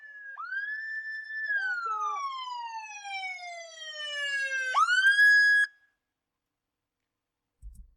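A police car siren wails loudly nearby during an arrest, rising and falling, then yelps sharply and cuts off abruptly, leaving near silence with a faint thump at the end.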